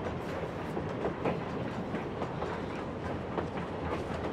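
A passing train rolls steadily with a continuous rumble and rhythmic clickety-clack of wheels over rail joints, loud and close throughout with no talk.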